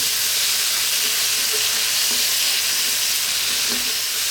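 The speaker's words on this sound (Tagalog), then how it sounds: "Gigisahin natin ng mga 2 minutes." Chopped tomato, onion and garlic sauté in a hot pan with a loud, steady sizzle and hiss that continues unbroken throughout, with no voices.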